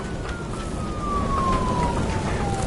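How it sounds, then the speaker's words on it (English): A police car siren wails in a video game scene after a crash, one long steady tone sliding gradually lower over a dense, noisy backdrop, loud and continuous with no talk. "Report a police car crashed near me."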